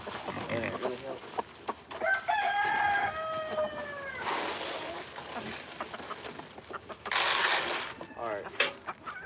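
Backyard chickens cluck and a rooster crows clearly up close, with scattered clucks and rustling while a person speaks briefly nearby.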